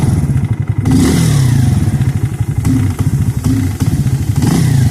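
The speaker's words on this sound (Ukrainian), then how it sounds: "мотоцикл робить нормально, стабільно" A Spark SP125C-2AMW motorcycle engine runs at a steady idle, close and loud, with a throbbing low pulse and occasional slight revs and dips, as if running cold, alone without talk.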